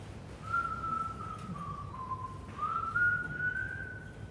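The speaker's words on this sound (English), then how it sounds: "you could hear that man a whistling kind of soft beneath his breath" A man whistles softly alone, one sustained wavering tune that glides up and down without words.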